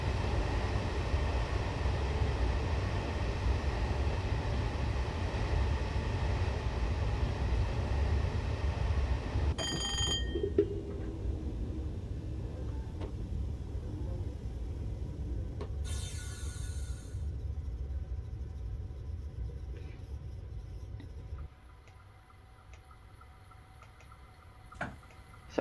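A Class 314 electric train running in a train simulator, a steady low rumble of wheels and motors with occasional clicks and brief cab tones, easing quieter toward the end.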